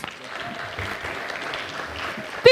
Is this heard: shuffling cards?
no